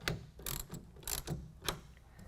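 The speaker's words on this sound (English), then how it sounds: "Take a 9/16 wrench or ratchet and get it just slightly snug." A 9/16 ratchet snugs the nut on a tonneau cover clamp on a 2020 Ram 2500, giving four or five quiet, close, rhythmic clicking bursts about half a second apart.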